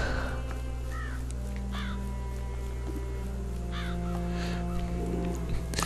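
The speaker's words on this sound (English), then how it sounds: "it appears there are a lot more crows than people right now" Crows cawing around Capelli village in the game Child of Light: several distinct harsh caws at intervals, some paired, over a constant low ambient hum, with no talking.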